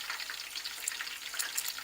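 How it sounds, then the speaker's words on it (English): Fish sizzles steadily in hot oil in a home kitchen while a Kenyan meal is cooked, a dense crackling hiss with small pops and no voices over it. "that was all fun and games until the fish hit the oil"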